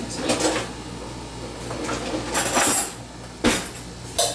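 Vegetables being tipped into a large bowl while preparing a potato salad, with a radish and cucumber mixture added to asparagus; light clinks and clatters of a bowl and utensils, a few sharper knocks near the end.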